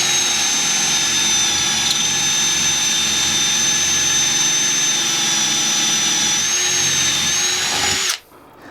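A power drill bores pocket holes into 4x2 timber for a bench backrest, a loud sustained high whine that runs steadily for about eight seconds before abruptly cutting off.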